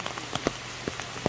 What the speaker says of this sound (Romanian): Din păcate nu pot să filmez că plouă.